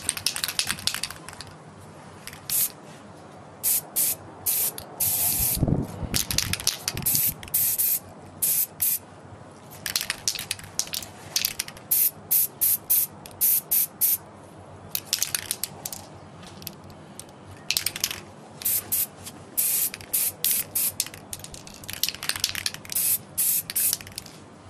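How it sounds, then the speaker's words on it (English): Spray primer from a shaken aerosol can coats a resin miniature in repeated short bursts of close, loud hissing, with brief pauses between passes and a faint clatter near the start. "spray primer first, shake it up"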